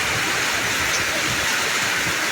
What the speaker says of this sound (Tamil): தண்ணி கொட்டுது மழை.